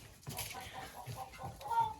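Black Dark Shell hens, a breed laying chocolate-brown eggs, cluck in a rhythmic series of short calls close by, with low background noise.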